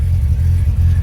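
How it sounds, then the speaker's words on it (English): A 1969 Corvette engine idles with a loud, close, steady low rumble and slight rev fluctuations, no other sounds over it. "car's coming up temperature, getting ready to run it"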